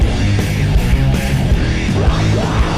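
A dense, heavily distorted doom metal guitar riff with low, sludgy sustained chords, loud and unbroken throughout.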